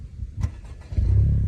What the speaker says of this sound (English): All right, here's the initial startup.